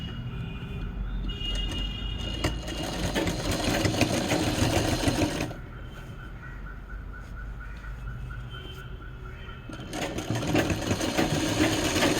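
A sewing machine stitches a shoulder seam along a fold in fabric with a dense, continuous mechanical whir. The motor pitch and intensity shift midway, then rise again toward the end.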